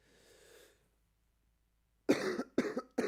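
A person coughing up phlegm during a podcast recording: a faint breathy rasp, a stretch of silence, then three harsh, close coughs in quick succession.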